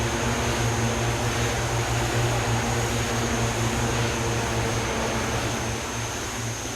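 De Havilland DHC-6 Twin Otter on skis in a flight simulator over Antarctica, its twin turboprop engines droning steadily and loud throughout, a constant whine riding over a low buzzing hum, with no voices.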